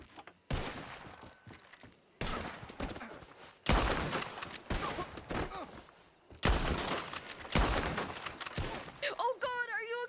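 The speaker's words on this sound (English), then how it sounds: "When I say now, I want you to start shooting it" Gunfire in a Red Dead Redemption 2 roleplay game, loud close bursts of repeated shots separated by brief silences, with some shuffling movement between volleys and a tonal sound at the end.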